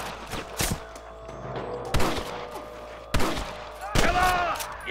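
Sniper gunfire in the video game Red Dead Redemption 2, a few sharp shots cracking at irregular intervals over a low ambient bed, with a voice briefly heard.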